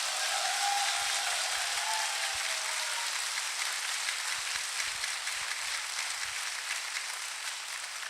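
An audience at a motivational talk on leadership gives a steady round of applause. The clapping is sustained and even, somewhat distant and rain-like, with no voices over it.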